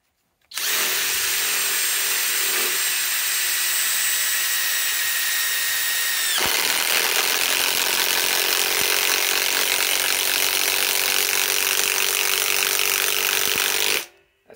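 A RIDGID mid-torque impact wrench drives a fastener into wood, running loud and steady for about fourteen seconds with a pitch shift partway through as the bit bites deeper, and no one speaks.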